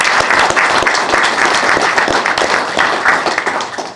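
Audience at a school board meeting breaks into steady, dense applause honoring a retiring staff member, many hands clapping together close by for the full stretch without easing off.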